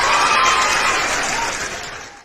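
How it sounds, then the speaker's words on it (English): Loud, dense clapping sustained for about two seconds, then tapering off quickly. "let me just clap for you small."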